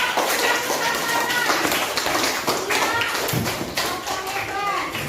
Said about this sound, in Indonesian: Oke, kasih tepuk tangan buat kelompok.